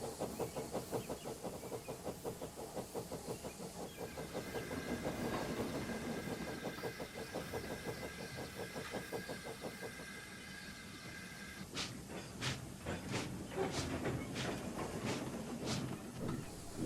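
A red engine train sets off along the rails with a steady rhythmic chugging and clatter, a hissing tone running through the middle, then sharp periodic clicks of wheels over rail joints near the end.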